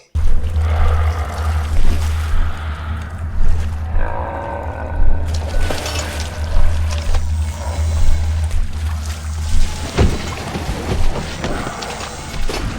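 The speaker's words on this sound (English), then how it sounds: "When Siren Alley's flooded, the game slows down and you tread slowly through the water" Slow, heavy wading through flooded streets of Siren Alley in Bioshock 2, with rhythmic sloshing steps every second or so over a deep watery rumble and groaning ambience.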